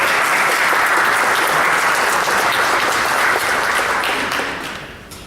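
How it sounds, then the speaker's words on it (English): A conference audience gives a round of applause for two award recipients, loud, dense and sustained clapping that holds steady, then tapers off toward the end. "I propose we give a round of applause to the two recipients"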